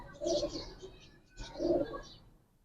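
Pigeons in a loft of Giribaz and colored breeds coo in two distinct, throaty phrases separated by a short pause, close and clear against a quiet background.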